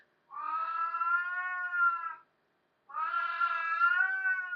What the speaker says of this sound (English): Your cat Spencer says hello, BC.